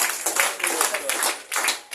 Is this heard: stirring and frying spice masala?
no